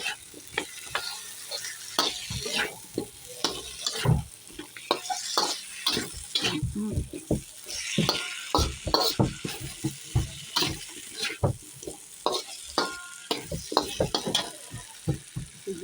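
Chicken sautéing in a hot pan for chicken curry, with steady sizzling broken by frequent scraping stirs of a utensil against the pan, close and fairly loud.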